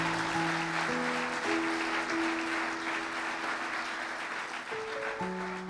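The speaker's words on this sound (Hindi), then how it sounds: "जोरदार तालियां खुदा की।" A church congregation claps loudly and steadily over sustained organ or keyboard chords, the applause holding strong throughout with little speech.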